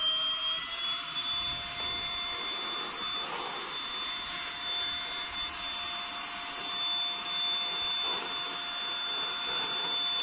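Beldray cordless vacuum cleaner bought from Aldi, running on its turbo setting, gives a steady high-pitched motor whine with a broad airy rush that holds level and close throughout, with no talk.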